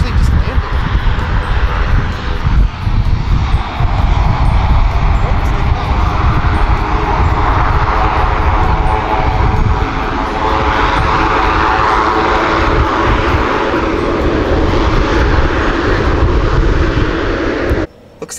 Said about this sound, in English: like they're starting up the plane here.